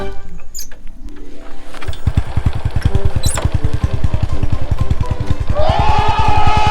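A motorcycle with a loud Dahwan X1-style exhaust pipe cranks, catches and settles into a rapid, rumbling idle, pulsing steadily up close with rising whine near the end.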